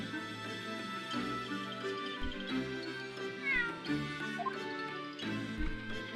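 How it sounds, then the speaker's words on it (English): A cat meows repeatedly in The Great Ace Attorney 2: Resolve, steady and close over a background of game music. "It's an adorable little kitty."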